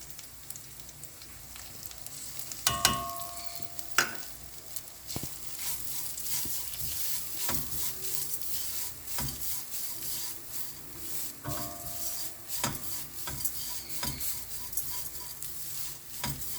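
Pirandai (adamant creeper) frying with grated coconut in a pan gives a faint, low crackle, punctuated by scattered spatula scrapes and taps at irregular intervals.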